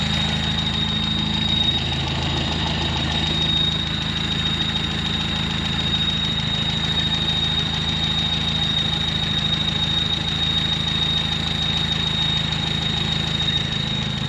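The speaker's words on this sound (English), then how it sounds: "Probably the fan belt maybe squealing." A Ford Fairlane engine idles steadily, with a low throbbing rumble and a continuous high, thin squeal from the fan belt, close and even throughout with no voices.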